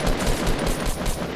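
Rapid automatic gunfire from a first-person shooter video game, a dense, loud burst of continuous shots fired without a break, with no voices over it.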